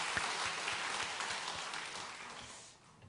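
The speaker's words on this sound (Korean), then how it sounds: "우리 하나님께 영광의 박수 한번 올려드리겠습니다." A church congregation applauding during a Sunday service, a dense rustle of many hands that holds steady and then fades out toward the end.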